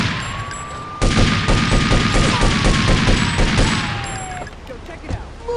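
Sustained gunfire in Grand Theft Auto 3 on mobile, a loud rapid burst of repeated shots lasting several seconds, with game sounds and a whistling tone running underneath, tapering off toward the end.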